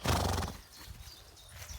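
A work horse neighs loudly and close by for about half a second, then quieter snorting and rustling follow.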